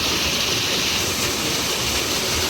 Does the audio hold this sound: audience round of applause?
no